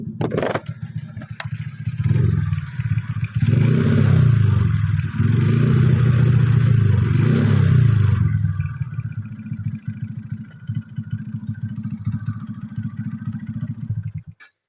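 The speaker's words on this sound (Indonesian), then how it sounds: "Memang kalau panas mesinnya ada suara tek tek tek gitu teman-teman." A hot Suzuki Satria 155cc motorcycle engine idles close by with a steady low rumble and light mechanical ticking and clatter; it grows louder in the middle, then settles back to a softer idle.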